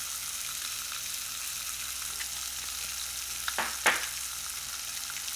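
Fish sizzling in a pan with chili flakes and spices, a soft continuous frying crackle at moderate distance, with a couple of brief scraping stirs near the end.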